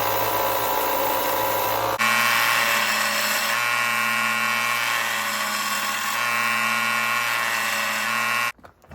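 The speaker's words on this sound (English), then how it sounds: "They're squarish, enough that I can get them square and even on the belt grinder" Metal dice being ground square on a belt grinder, a loud, steady whine with a constant motor hum running without a break, shifting slightly as the pressure changes, then cutting off near the end.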